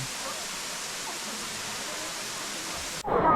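Erawan waterfall in Kanchanaburi, Thailand, a constant broadband rush of falling water heard close and steady, ending with a sudden cut to a brief different sound.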